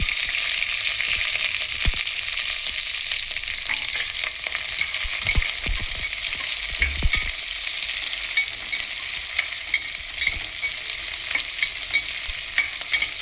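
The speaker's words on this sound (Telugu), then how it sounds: "ఇప్పుడు ఉల్లిపాయ, పచ్చిమిరపకాయ వేస్తున్నానండి" Chopped onion and green chillies frying in a pan for an Andhra brinjal curry, a steady close hiss of sizzling oil with occasional stirring scrapes and taps, no voices.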